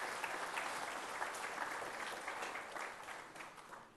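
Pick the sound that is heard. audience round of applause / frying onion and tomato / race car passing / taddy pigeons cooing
audience round of applause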